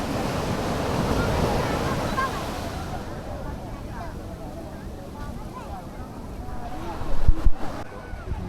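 Ocean surf at Alappuzha beach in the evening, around sunset, washes in as a broad, steady roar mixed with wind on the microphone, rising in a louder surge near the end.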